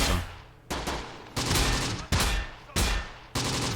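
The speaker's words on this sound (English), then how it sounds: "They're actually using all of their available ordnance just to take out my tank hunter team." Bursts of gunfire and ordnance blasts from the WWII video game Close Combat, about six sharp loud volleys at a steady pace, each decaying into a rumbling tail, with no talking.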